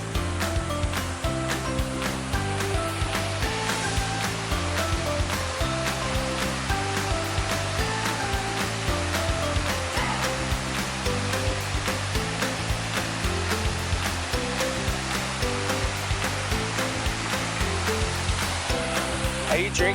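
A waterfall in Maricao, Puerto Rico, pours with a steady, dense roar that stays loud and constant throughout, with no voices over it.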